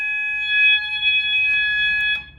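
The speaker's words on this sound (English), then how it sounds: "once I turn a device on, the alarm will sound" A fire alarm system sounds during a test of a retrofit installation, giving a steady, piercing electronic tone that holds for about two seconds before cutting off, close and fairly loud.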